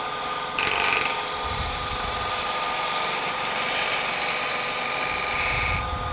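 Woodturning gouge cutting wood on a lathe, a continuous close scraping, rasping hiss that holds steady for several seconds.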